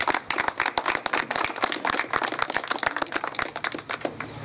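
Applause from a small gathering at a street repair event, sharp individual claps in a quick uneven rhythm, close and distinct, lasting a few seconds.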